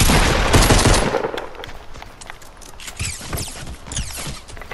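Rapid bursts of automatic gunfire in the Fortnite Battle Royale video game, loud and dense at first, then continuing as scattered shots and rattling volleys with no talk.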